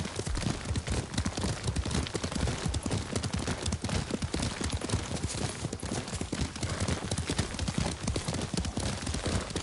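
Hooves clip-clop steadily and quickly as a horse is ridden in the Ghost of Tsushima video game, a dense, continuous beat that fills the clip with no pauses.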